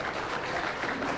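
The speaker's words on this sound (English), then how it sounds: "Very appreciative crowd" A crowd at a women's nine-ball billiards championship applauding, a dense, steady clatter of many clapping hands with no break.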